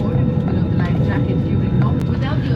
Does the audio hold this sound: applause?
no